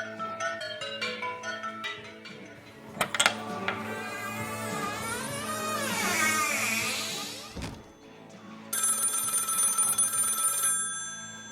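An old-style telephone bell rings in a promotional tour clip, loud bursts mixed with clattering impacts and music-like tones, ending in a sustained bright ringing.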